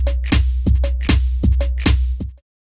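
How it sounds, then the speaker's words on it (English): A short drum loop sample repeating in Native Instruments Kontakt: about six evenly spaced hits with a bright transient and a low thump under each, playing loud and alone before an abrupt stop. "So it's just looping back that section of our drum loop."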